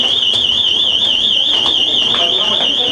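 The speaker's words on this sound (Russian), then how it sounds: "Тревожный сигнал раздался ровно в 3 часа, в разгар рабочего времени." A building fire alarm sounds as a continuous, piercing high electronic tone with a slight wavering warble, loud and steady for the whole stretch, with faint background noise beneath it.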